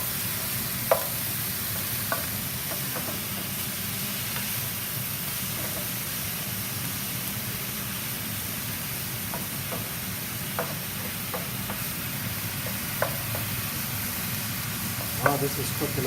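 Ground beef with garlic and seasoning sizzles steadily in a pan, a constant hissing fry broken by occasional clicks and scrapes of stirring, with a voice talking over it at times.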